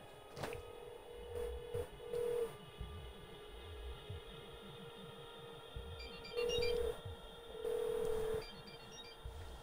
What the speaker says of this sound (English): Alexa, locate my phone.